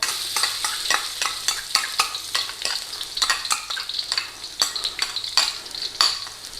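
Garlic sizzles and crackles in hot oil in a wok for a Thai beef and banana pepper stir-fry, stirred steadily with a utensil scraping the pan in repeated close strokes, with no talking.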